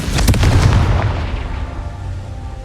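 A Confringo spell detonating in the Hogwarts Legacy video game, one loud booming blast with a rumbling, crackling burst that slowly fades into a lingering low roar, with no speech.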